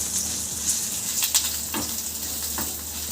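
Spices and chili fry in a pan for a dried fish gravy, making a loud, constant sizzle close by, with a few quick stirring scrapes mixed in.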